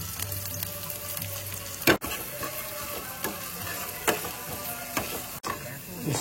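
Onion slices hitting hot oil crackle and sizzle steadily, close and fairly loud, with a few sharp utensil knocks and stirring scrapes breaking through the frying hiss.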